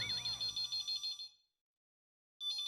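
A mobile phone ringtone plays loud and close in a repeating electronic pattern for about a second and a half, cuts to silence, then starts again near the end.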